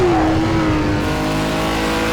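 BMW M1 Procar racing engine in a driving video game, a loud steady drone with a falling pitch as the car lifts or shifts, continuous and close throughout.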